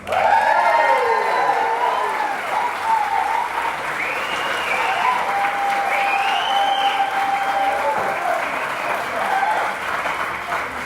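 Crowd applause at an outdoor ribbon cutting ceremony in Harrison, Arkansas, sustained clapping with scattered cheers and whistles lasting about ten seconds.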